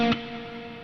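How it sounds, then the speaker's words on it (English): An electric guitar played through an effects patch drenched in reverb: one sustained chord rings out and slowly decays in a long, washy tail. "Wow, listen to that reverb."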